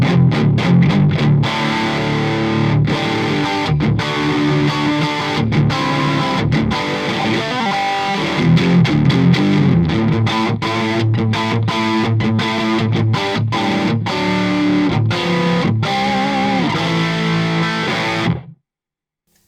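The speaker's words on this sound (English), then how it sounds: "I'm digging these tones. And these are just the REVALVER amps, okay?" Electric guitar played through REVALVER amp clones on a Headrush Flex Prime, a loud, continuous distorted tone with dense chords and riffs that cuts off abruptly at the end.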